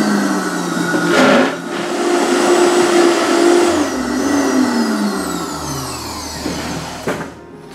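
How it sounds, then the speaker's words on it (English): A blender whirs loudly and steadily as it purees chocolate pudding fruit for a raw vegan parfait, with its motor pitch shifting and dipping as the load changes. "Let me blend this up"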